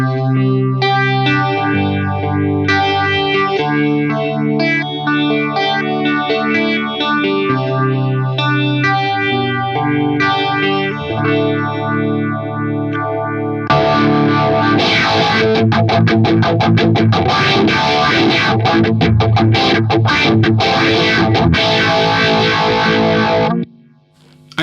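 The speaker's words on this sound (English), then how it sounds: "Phaser." Electric guitar through the phaser effect of a Nux Cerberus multi-effects pedal, sustained chords and melodic lines with a sweeping swirl, then a denser, driven strummed passage, loud and close, ending abruptly.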